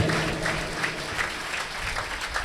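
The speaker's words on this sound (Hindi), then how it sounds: "तालियां बजाकर प्रेज कीजिए, प्रेज कीजिए तालियां बजाकर" A church congregation claps hands in praise during a Hindi-Urdu sermon, a steady dense wash of applause filling the hall at moderate level without a break.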